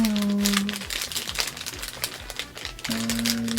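Plastic wrapping on a Nike employee lanyard is carefully torn open up close, giving a continuous crinkling and crackling for a few seconds with faint tonal background sounds.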